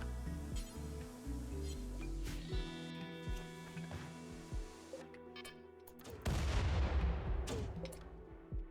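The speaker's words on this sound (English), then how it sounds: "I guess we're in an artillery duel" Mortar artillery in a survival video game's artillery duel fires repeated sharp booms at irregular intervals, with a heavier cluster of blasts near the end, all over a continuous mechanical hum.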